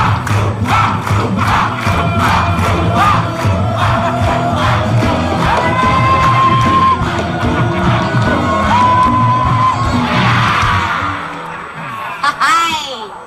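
A studio audience at a television talk show cheers loudly and continuously, with whoops, yells and mixed voices forming a dense crowd roar that eases slightly toward the end.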